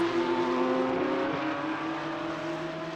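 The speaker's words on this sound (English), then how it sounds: "Just watching the cars coming round and enjoying the sounds here" Race car engines in a virtual racing game at Brands Hatch Indy drone steadily, with a sustained high whine that shifts pitch once as the cars come round.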